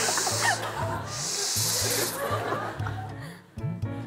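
A person imitates a rattlesnake's hiss with their voice, producing loud, repeated breathy hissing bursts, mixed with chuckling and low voices in the background.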